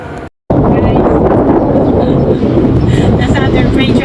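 Strong wind buffets the microphone in a loud, continuous roar with low rumbling gusts, briefly cutting out near the start.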